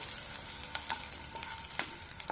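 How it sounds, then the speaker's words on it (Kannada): Green tomato chutney ingredients frying in a pan, a soft continuous sizzle with a few light stirring clicks, quiet and close, no talking. "ಫ್ರೈ ಆಗ್ತಾ ಇದೆ ಸ್ಮೆಲ್ಲೆಲ್ಲ ಹೋಗ್ತಾ ಇದೆ"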